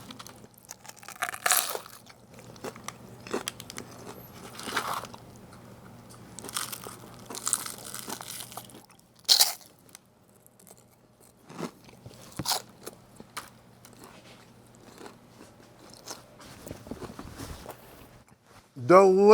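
Crunchy bites into hot, crispy fried fish and chips, a few crackling crunches scattered through the clip with people talking over and between them.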